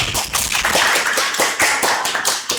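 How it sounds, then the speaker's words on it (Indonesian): Students in a business education microteaching classroom clap together, a dense run of overlapping hand claps that stays loud and steady from start to finish, heard close with no talking over it. "Beri tepuk tangan dulu dong."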